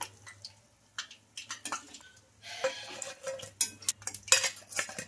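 Fried pea vadas lifted out of hot oil with a metal utensil and set onto a plate, giving scattered scraping clinks and soft taps over a faint sizzle, louder and busier in the second half.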